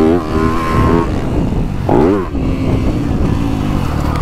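A 2024 Yamaha YZ250F dirt bike engine revs loudly and close, its pitch climbing and falling through a couple of throttle bursts, then settling into a steady rasping run.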